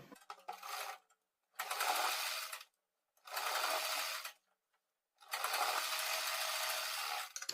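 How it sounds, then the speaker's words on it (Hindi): Sewing machine stitching a border strip onto buckram for a sleeve design, running in three bursts of steady, fast, even whirring with short pauses between them and no talk. "किनारी पर सिलाई लगाते आएंगे बुकरम के ऊपर"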